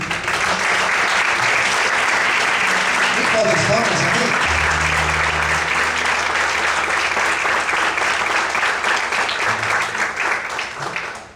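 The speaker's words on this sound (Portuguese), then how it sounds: "Vamos aplaudir" Church congregation applauding steadily and loudly throughout, a dense wash of clapping with faint voices and a low tone underneath.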